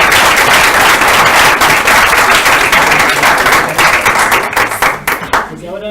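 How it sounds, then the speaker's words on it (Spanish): A lecture audience applauds loudly and steadily after a talk on antibiotic resistance, with dense continuous clapping that thins into scattered claps toward the end. "Gracias, doctora. Un aplauso."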